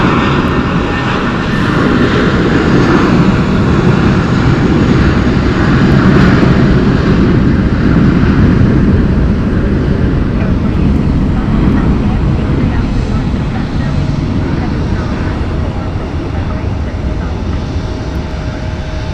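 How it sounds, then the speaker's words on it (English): An American Airlines Airbus A320 departs Phoenix Sky Harbor Airport, its engines giving a steady, loud roar that holds for the whole stretch with little rise or fall, with faint voices under it. "Next up for departure is American 540 going to Spokane, Washington"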